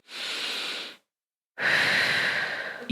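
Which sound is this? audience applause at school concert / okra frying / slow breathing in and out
slow breathing in and out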